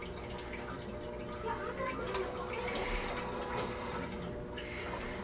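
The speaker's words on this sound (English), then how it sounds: "that's just the standard posterior wash now" Water spray from a Bio Bidet Bliss BB-2000 bidet seat running its standard posterior wash, a steady hiss of running water with faint dripping, continuous and fairly quiet at close range.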